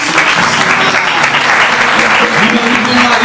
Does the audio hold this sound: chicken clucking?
no